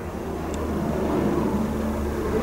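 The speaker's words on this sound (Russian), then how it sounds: "Значит, это тупо летит самолет." A steady low drone of an airplane passing overhead in rainy weather over a village, loud and continuous with a rumbling hum throughout.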